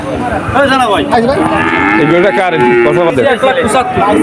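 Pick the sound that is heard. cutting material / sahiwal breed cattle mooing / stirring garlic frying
sahiwal breed cattle mooing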